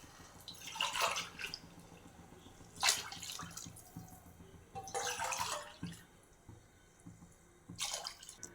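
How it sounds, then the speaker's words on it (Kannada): Water poured from a glass into rice in a pressure cooker, several separate splashing pours of a second or so each with quiet gaps between, fairly soft and close. "ಇದಕ್ಕೆ 4 ಗ್ಲಾಸ್ ನೀರು ಹಾಕ್ಕೊಳ್ಳಿ"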